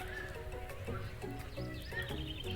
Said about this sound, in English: There is that horse that Colonel Sanders rides to school